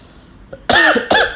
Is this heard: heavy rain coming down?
no